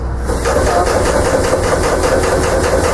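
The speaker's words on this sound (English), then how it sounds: "Now, my piston pump is pumping up and down." A hydraulic piston pump runs steadily, giving a continuous hissing, air-driven mechanical drone with a faint repeating pulse. It stays loud and close the whole time, and no voice is heard over it.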